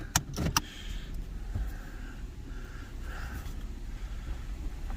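A 1997 Mitsubishi Magna TF driving in at low speed, a faint steady engine rumble with a couple of sharp clicks at the start and soft whirring swells.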